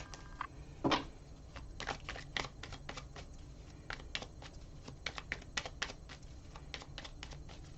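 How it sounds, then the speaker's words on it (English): Tarot cards are shuffled in a quick riffle of crisp flicking snaps, with a sharper clack near the start, close and without talk. "One more shuffle."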